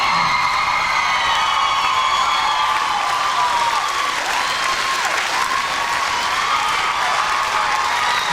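Sustained applause from a large concert audience for a singer, loud and steady throughout, with occasional whoops and cheers rising from the crowd.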